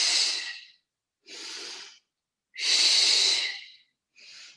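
Pilates exercise breathing: four close, breathy exhalations and inhalations in an uneven rhythm, with silent pauses between them and no talking.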